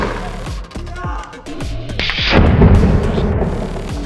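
Homemade dry ice bomb going off, a loud burst followed by a roaring hiss that lingers for a couple of seconds, after a run of sharp thuds and bangs.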